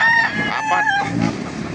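Chickens and a rooster at a chicken market in Laguna give a short, loud burst of close clucking and crowing.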